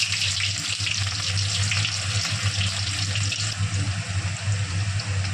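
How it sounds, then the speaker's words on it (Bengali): Chopped raw onion frying in oil with cumin seeds in a Bengali home kitchen, a loud, steady, close sizzle with a constant low hum underneath, continuous for several seconds without talk. "পেঁয়াজটা তেলে ভাজা ভাজা হয়ে যাওয়ার পর"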